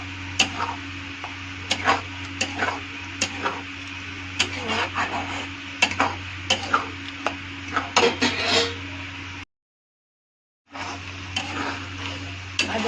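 A metal spoon scrapes and clinks against a pan as spinach paste is stirred into fried ingredients for palak paneer, with irregular knocks and a steady hum underneath and a brief silent break near the end.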